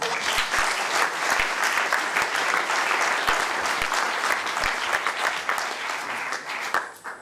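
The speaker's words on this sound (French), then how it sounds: "je pense que vous pouvez l'applaudir" Audience applause at the Lumexplore 2021 award ceremony, a dense steady round of clapping from a sizable crowd that carries on for several seconds and tapers near the end.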